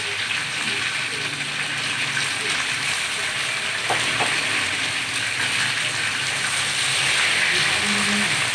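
Chicken frying in a pot with browned onions for a restaurant-style chicken biryani, giving a steady, dense sizzle and hiss that continues throughout and grows slightly louder toward the end.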